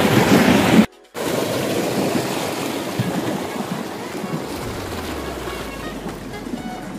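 Water flows into a village field being irrigated for planting hybrid hot peppers. It makes a steady, broadband rush that cuts out briefly near the start, then continues evenly throughout.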